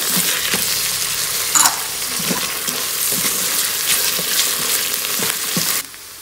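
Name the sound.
stirring mint and coriander leaves in an Instant Pot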